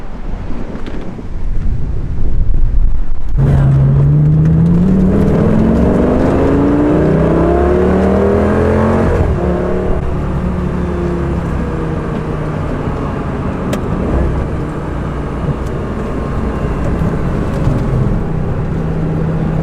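A Lamborghini accelerates through its gears with rising engine pitch, then cruises with a steady drone under heavy wind and road rush, rain likely in the conditions.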